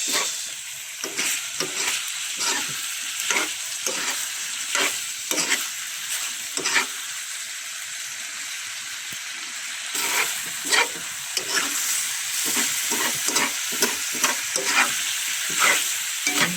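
Chicken frying in its own rendered fat is stirred steadily, rhythmic scraping strokes repeating over a constant loud sizzle, close up and without talk.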